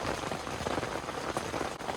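Heavy rain from the remnants of Hurricane Beryl drums steadily on a camping tent, a dense unbroken hiss and patter close around, with no voices.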